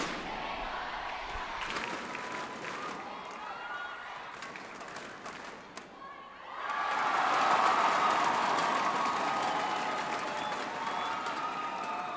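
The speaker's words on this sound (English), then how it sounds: "if you can hear the crowd, they are rather excited." Broad crowd noise swells into loud, excited cheering and applause from a large indoor audience at a badminton match, sustained and dense after an initial quieter stretch.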